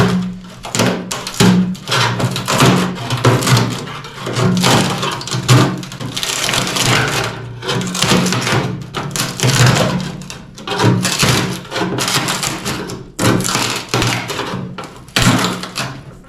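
Steel chisel scraper stripping old paint from a 1957 GMC truck body, a steady run of loud, close scraping strokes and gritty chips in uneven bursts, with brief pauses between passes.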